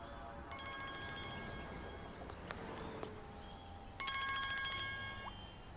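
A telephone rings in two bursts of electronic trilling, the first longer and the second louder after a short pause, heard close and clear with no talk over it.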